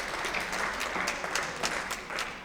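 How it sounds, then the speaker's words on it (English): An audience at a participatory budgeting meeting applauds steadily, a dense wash of many hands clapping close by for the whole stretch without pause. "More, keep the applause going."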